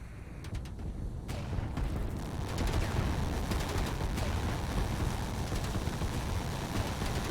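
Volley of rockets fired at an enemy in a strategy video game, a dense rumbling barrage of explosions and rapid cracking blasts that builds and holds loud throughout.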